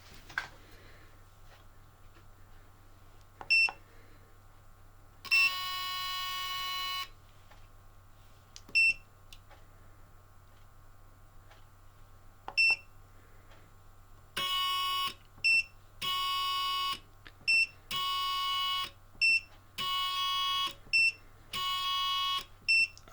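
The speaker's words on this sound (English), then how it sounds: "And these are one noisy servo." A Savox SB2292SG servo runs at 7.2 volts under test, giving a loud electronic whine in repeated bursts of a second or so, seven sharp high buzzing segments with short pauses between them and steady background hum.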